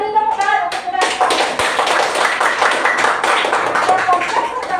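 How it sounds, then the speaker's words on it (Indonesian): Children in a grade 3 classroom in Indonesia clap their hands together in a burst of dense, fairly loud applause lasting several seconds, with a teacher's voice heard over it. "beri tepuk tangan untuk mereka"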